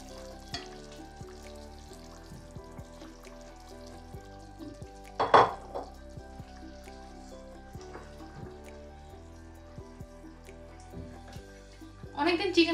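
Dried boal fish frying in a pan, giving a steady low sizzle with a few sharp clatters of utensil against the pan, and a voice now and then in the background.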